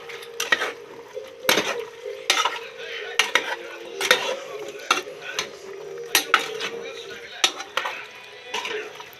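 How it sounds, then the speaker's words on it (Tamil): Chicken curry stirred in a pot with a spoon scraping and clinking against the metal, a steady run of sharp scrapes and knocks at close range, faint sizzling underneath and a lid set on near the end. "இப்போ உப்பு போட்டு நல்லா மிக்ஸ் பண்ணிவிட்டு மூடி போட்டு அடைச்சி ஒரு ஃபிஃப்டீன் மினிட்ஸ் நல்லா வேக வைக்கலாம்"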